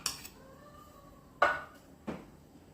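A spoon stirs curd chutney made with roasted peanut powder and salt in a bowl, giving three sharp clinks against the dish, spaced apart in a quiet room.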